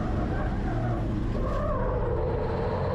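Onboard sound of a race car driven hard through corners, engine roaring loud and steady throughout with tires skidding and scrubbing beneath it.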